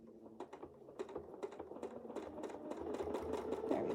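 A sewing machine runs in short stitching bursts for a couple of stitches, the needle clatter fairly close and steady, without any talk.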